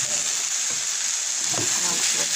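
French beans sauté in a hot pan with a steady, loud hiss of frying, and a few soft scrapes of stirring come and go underneath.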